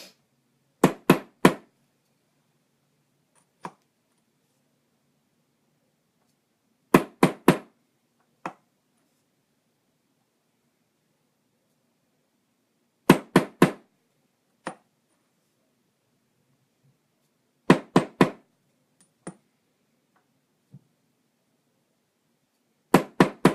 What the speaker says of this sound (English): I'm going to get to hammering the word perfectly